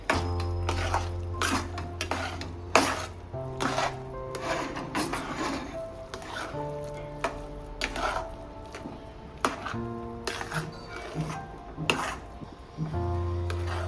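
A spoon scrapes and stirs thick breakfast batter with potato in a pan, with repeated rubbing strokes and sharp clinks against the metal, close and fairly quiet.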